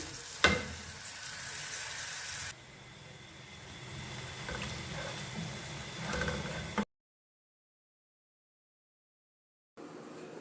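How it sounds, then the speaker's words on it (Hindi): Onions sizzle and brown in hot oil for kadhi pakora, a soft steady frying hiss with a stir or clatter, broken by a stretch of silence. "सबसे पहले मैंने ऑयल डाला, उसके बाद प्याज डाल के करेंगे हम इसको ब्राउन"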